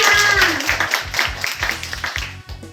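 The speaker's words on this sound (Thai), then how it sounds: "ขอเสียงปรบมือค่ะ" Audience clapping at the finish of a robot car race on a model track, a dense, steady wash of applause heard close and fairly loud over a pulsing low thump, thinning out near the end.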